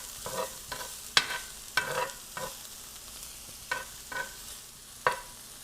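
Onions sizzling gently in a skillet while being stirred, with soft frying hiss under a series of distinct clicks and scrapes from a utensil against the pan, close and fairly quiet, no voices.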